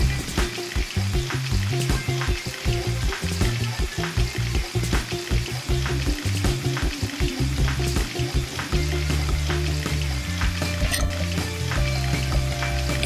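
Banana pieces frying in hot oil, a loud, close, continuous sizzle and bubbling with rhythmic stirring and scraping throughout, without any voices.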